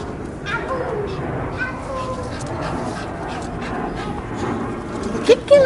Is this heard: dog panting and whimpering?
yes